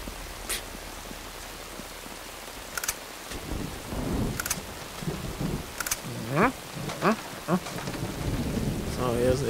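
Rain and rolling thunder in the video game Uncharted: steady rainfall with several low thunder rumbles and sharp cracks building over the clip, under faint background sounds.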